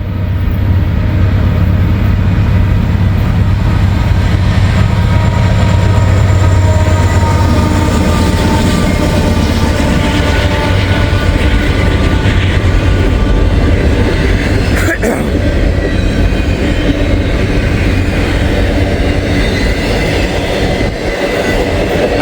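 Norfolk Southern freight train NS262 passing on the Newcastle sub, a loud, close rumble of locomotive and wagons with rhythmic wheel clatter and occasional squeal, continuous throughout.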